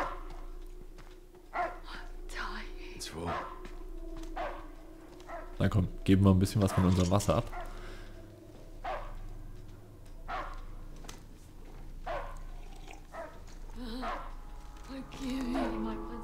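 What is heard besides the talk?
dog barking in the video game Mad Max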